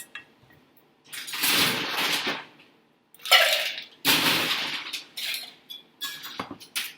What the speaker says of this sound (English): And then we're going to stir that down with ice.